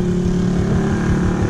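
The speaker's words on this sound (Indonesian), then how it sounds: "Kawasaki dua tak." A Kawasaki two-stroke motorcycle engine running steadily on a touring ride, with a loud continuous buzzing drone that stays close and even, and no talk over it.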